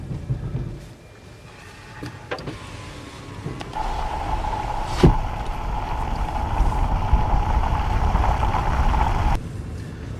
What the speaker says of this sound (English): It's amazing, you can hear everything that's happening to the tyres.